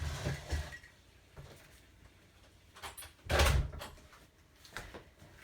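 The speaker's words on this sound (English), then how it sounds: "let me shut my back door" A back door at home is pulled shut, giving a sharp thud with a rattle of glass or latch, preceded by lighter bumps and handling sounds in a quiet room.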